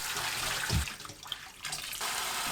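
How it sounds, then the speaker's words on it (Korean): Stonecrop greens rinsed under running tap water, a steady close rush of flowing water in a sink with a brief heavier splash partway through, no talking. "물에 한두 번 헹궈주세요."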